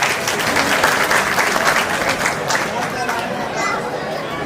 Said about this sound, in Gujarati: એટલે જોરદાર તાળી પાડો.